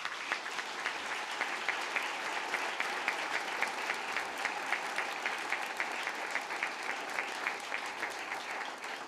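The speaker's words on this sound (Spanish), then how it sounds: "Es el aplauso a este patrono que les ha dado la Iglesia, un gran santo." A church congregation applauds the parish patron saint at a feast-day Mass, a sustained, even roar of many hands clapping with rhythmic peaks and no talk.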